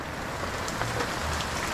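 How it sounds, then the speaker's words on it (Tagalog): Heavy rain pouring steadily over flooded farm fields, a dense continuous hiss of drops with no break and no voices over it. "lakas ng ulan"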